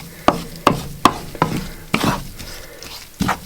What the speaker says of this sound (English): let's throw in our wine and our thyme. And we're just going to cook that